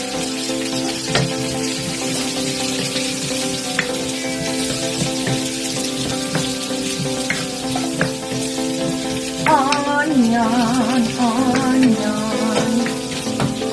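Garlic and onion sizzle in a hot pan for a stir fry of bitter gourd and mixed vegetables, a steady close frying hiss with occasional stirring clinks and a brief squeak partway through.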